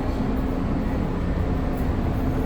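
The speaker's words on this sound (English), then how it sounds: "I have in fact found the train that is going to take me to places unknown" Steady low rumble of a train pulling out of an airport station, heard from inside the car as a continuous, even drone with no talk.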